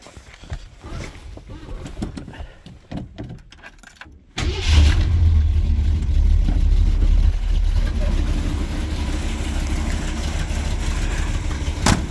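A cold 1966 Ford LTD cranks and catches around four seconds in, then idles loud and rough with an uneven rocking beat, close to the microphone; a voice speaks briefly early on.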